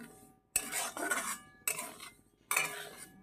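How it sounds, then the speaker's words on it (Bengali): Semolina frying in ghee in a pan is stirred with a utensil, giving three loud scraping, clattering strokes against the metal separated by short pauses, close by and with no talk. "ঘি দিয়ে সুজিটা ভেজে নিচ্ছি"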